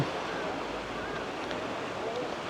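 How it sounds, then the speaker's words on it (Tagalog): Ocean waves striking rocks on the Izu Peninsula coast in Japan, a steady broadband wash of surf with soft rushing swells, close and continuous, with faint voices in the background. "Ang sarap naman sa tenga nung tunog ng alon, no?"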